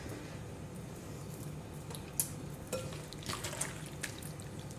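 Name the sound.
vegetables for kimchi being packed and punched down, juices squishing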